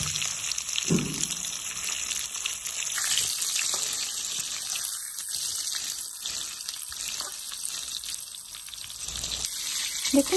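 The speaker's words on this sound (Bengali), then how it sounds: "এবার আমি পটলগুলো ভেজে নেব" Pointed gourd (potol) slices fry gently in oil in a home kitchen, giving a soft, steady sizzle mixed with water splashing and running. Someone may be washing at a sink nearby.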